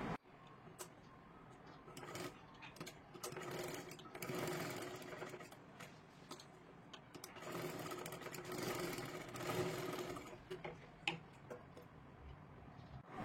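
A sewing machine stitches a side seam on a fabric sleeve, its needle running in a steady, close, rapid chatter that surges and eases over several long passes, with no voices.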